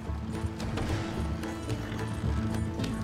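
Horses galloping in Red Dead Redemption 2, rapid clip-clopping hoofbeats over a low rumbling game soundscape, loud and continuous for a few seconds with no talk.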